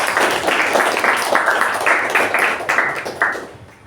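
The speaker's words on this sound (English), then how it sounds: "Let's give him another round of applause" A Toastmasters meeting audience claps for a speaker after his speech, a dense, steady patter of many hands that holds evenly for several seconds before thinning out at the end.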